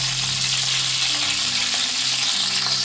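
Chicken pieces fry with slit green chillies in a hot pan, a loud, dense, steady sizzle close up with faint stirring scrapes and no voices.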